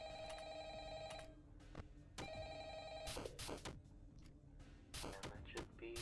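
Electronic telephone ringing in the Five Nights at Freddy's fan game Frickbear's 3, in repeated rings broken by thuds and brief noise bursts, fairly loud and close.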